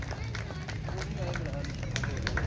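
Audience applause at a prize distribution ceremony for a tournament in Lahore: a crowd claps in a dense, continuous patter close by, with babble and voices mixed in.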